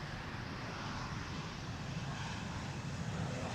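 A Nippon Cargo airliner's engines spool up on the runway at Amsterdam Schiphol Airport, a steady broad jet roar with low rumble, moderately distant and continuous throughout.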